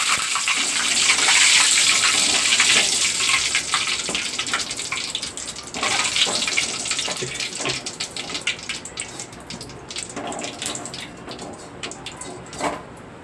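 Slit green chilies and curry leaves deep frying in hot oil give a loud, continuous sizzling hiss that is close and busy at first, then gradually thins into crackles and pops.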